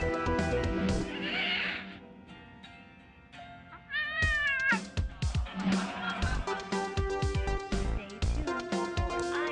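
Cat meowing on a TV channel in the video game Thimbleweed Park, several drawn-out, wavering meows and yowls mixed with music and other tonal sounds, fairly close and clear.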